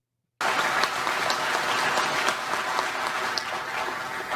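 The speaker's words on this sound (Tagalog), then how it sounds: "palakpak naman kayo" Crowd applause from a played recording, a dense continuous clatter of clapping that starts abruptly and holds steady at moderate loudness to the end.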